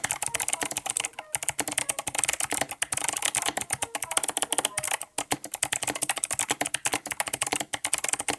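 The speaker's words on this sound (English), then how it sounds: "this keyboard is fantastic to type on" Steady, rapid typing on a mechanical keyboard, with crisp clicky keystrokes in a continuous stream and brief pauses, close and clear with no talking.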